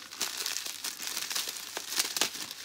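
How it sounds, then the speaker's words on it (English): Scissors snip and tear open the plastic bag around a Funko Soda vinyl figure, giving close, steady crinkling and rustling with a few sharper cuts and crackles throughout, and no voices. "Get the scissors, give that bag a little chop"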